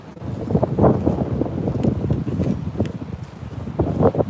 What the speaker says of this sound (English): You can see how they sway in the wind really bad.